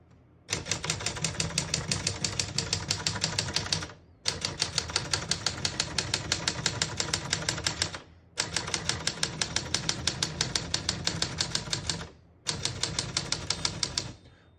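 A 1966 Remington Holiday portable typewriter typing in rapid, even runs of crisp key strikes, four bursts separated by short pauses, close and loud with no talk.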